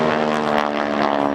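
A propeller airplane flying a Cuban 8 aerobatic maneuver at an air force base air show, a loud, steady droning engine with a strong hum held throughout, close overhead.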